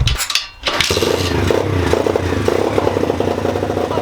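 SMX 125cc RFZ dirt bike engine starting: a brief clattering crank and a short gap, then the motor catches and settles into a steady, close, buzzing run.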